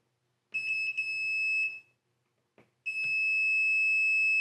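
A multimeter's continuity beeper sounds while its leads probe furnace thermostat wires: a sustained steady electronic tone with a couple of brief breaks, cutting out, a short click, then the tone resuming and holding.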